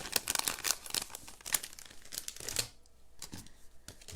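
Wobble embellishments pulled from a crinkly plastic packet for bee-themed cards, giving dense, close crinkling and rustling bursts that ease into sparser crackles toward the end.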